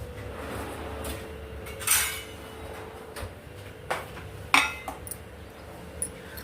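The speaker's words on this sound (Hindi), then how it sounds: "बाकी के आधे अभी इनको मैं धो रही हूँ" Dishes, pots and steel utensils are washed by hand in a home kitchen, with scattered metallic clinks and clatters over running water and a low background hum, and one louder clang partway through.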